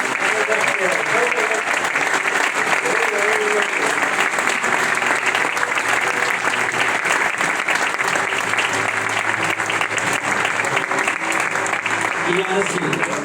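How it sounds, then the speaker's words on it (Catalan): Sustained, loud applause from a large crowd, dense clapping that continues steadily without pause for over ten seconds. "us demano a tots un aplaudiment enorme"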